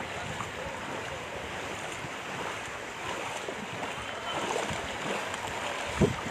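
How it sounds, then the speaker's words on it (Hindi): Floodwater from heavy rain pours out of a drain and flows into a higher secondary school ground in Marwar Junction, Pali, Rajasthan, a steady broadband rushing wash with a brief bump near the end. "ये जो नाले से पानी निकल कर हमारे हायर सेकेंडरी स्कूल के अंदर जा रहा है"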